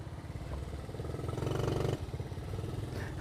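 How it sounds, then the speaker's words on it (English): A small Trail 90 motorcycle ridden into a pole at a gas station, its mid-pitched engine running steadily and swelling louder for a moment before easing back, with a brief clattering edge near the end. "ramming Joe Sebergandio's little Trail 90 into the pole at the gas station"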